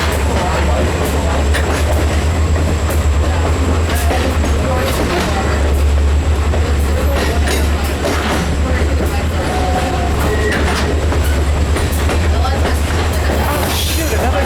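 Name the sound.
train passing on the Western Maryland line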